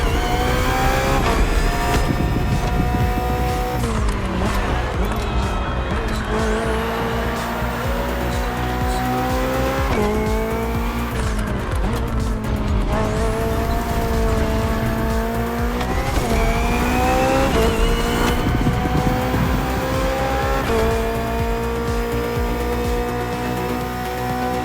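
A BMW hybrid V8 race car roars through a short race in the video game The Crew Motorfest, with a loud, steady engine drone that rises and falls with gear shifts and some tire squeal throughout.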